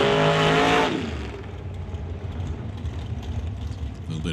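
Drag race cars at an NHRA Summit ET bracket race launch hard from the line, a loud close engine roar that drops into a rumbling, sputtering idle.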